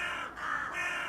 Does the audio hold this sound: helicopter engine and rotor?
no